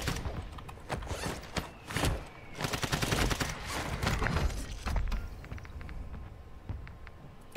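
Gunshots during a Call of Duty DMZ match, volleys of sharp cracks and bursts of automatic fire at moderate distance, clustered in the middle then thinning to scattered shots.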